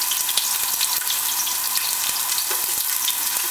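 Chopped onions frying in hot oil for Nigerian beans give a dense, steady sizzle with small crackles, close and loud with no talking.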